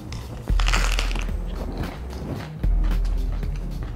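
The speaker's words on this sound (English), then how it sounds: "Nice crunch." Two crisp, close bites into a Korean BBQ chicken lettuce wrap, each followed by loud crunching and chewing of fresh lettuce and chicken, with no talking.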